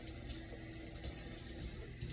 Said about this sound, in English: now I'm gonna put some water in the blender jar